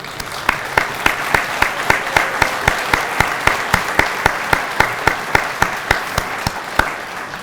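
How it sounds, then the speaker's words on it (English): Guests at Tom Huntington's retirement ceremony applaud his family: loud, close, sustained clapping with sharp, regularly spaced claps standing out over a continuous bed of applause. "Can we give them applause?"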